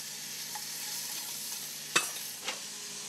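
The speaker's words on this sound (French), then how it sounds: "On l'entend, là, ça frémit tout doucement." Onions frying gently in olive oil for a braised cabbage dish give a soft, steady low sizzle, with a couple of brief stirring scrapes near the end, quiet and close with no talking.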